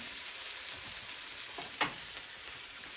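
Vegetables dropped into a hot stovetop pot give a steady soft sizzle, with a brief louder hiss partway through, close and fairly quiet, no voices.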